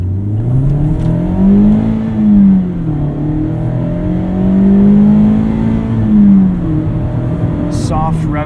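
A 2019 Mazda MX-5 Miata engine revs through an acceleration pull in the cabin, a loud steady drone that rises and dips with the throttle across the run.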